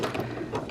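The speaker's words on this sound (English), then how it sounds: "And I'm gonna back stitch" A home sewing machine back stitches a waistband seam while finishing a Simplicity 8612 garment, giving a short, close, steady mechanical whir of under a second with no talking.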